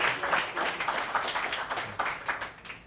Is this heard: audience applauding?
yes